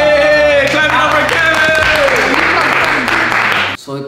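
A crowd applauds and cheers for a participant at a Spanish trivia challenge, loud and continuous under music with a voice on top, then the clapping cuts off abruptly near the end.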